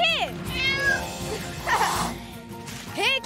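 A cat meows several times, rising and falling wails near the start, middle and end, with some other noise in between and no clear talking.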